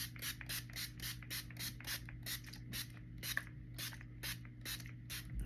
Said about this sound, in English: So I like to spray